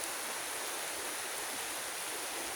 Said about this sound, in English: It is pouring down buckets of rain.